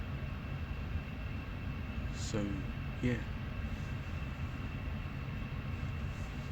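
The interior of a moving commuter train in the morning gives a steady low rumble and hiss throughout, with someone speaking briefly over it.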